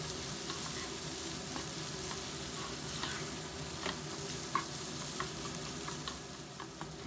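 Cauliflower and potato kurma sizzles in a pan while being stirred, giving a continuous frying hiss with scattered soft scrapes and taps from the spoon.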